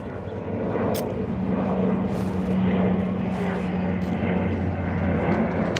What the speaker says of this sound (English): They're all little Bombardier Q400 twin-engine passenger planes, Porter and Air Canada, basically flying in and out of the Toronto Island Airport.